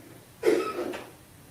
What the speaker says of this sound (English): that coughing